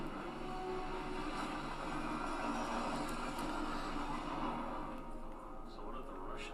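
A train rolls along in the stealth video game Hitman, a steady broadband rumble and rattle of carriages holding at an even level throughout, with no clear individual events standing out.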